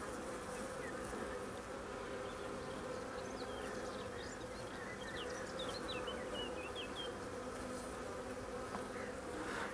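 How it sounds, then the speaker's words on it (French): Honeybees buzz steadily on a hive frame, a dense continuous hum of many insects close by, with no talking. "c'est 2 abeilles qui se battent"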